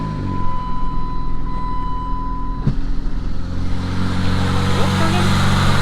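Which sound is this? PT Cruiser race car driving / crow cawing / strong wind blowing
PT Cruiser race car driving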